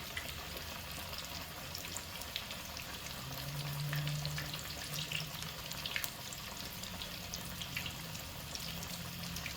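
Two chicken thighs fry in hot oil, giving a steady, crackling sizzle with scattered pops and spits. The sound holds fairly even at a moderate level and swells slightly partway through, with no voices.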